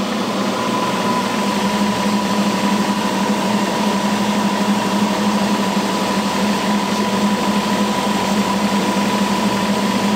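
A small generator spins at a constant speed while driving a light bulb load, producing a loud, unbroken mechanical hum with a steady whine and faint vibration that runs throughout with no pitch change.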